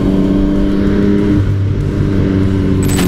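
A Yamaha MT-09 naked motorcycle pulls hard on a test ride, its engine note loud and close, holding a steady roar with a pitch shift midway as it accelerates.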